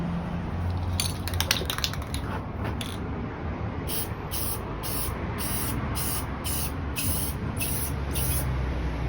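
Flat clear finish coat being sprayed on an industrial end table, with bursts of aerosol hiss in short repeated passes, close and steady, with no talk.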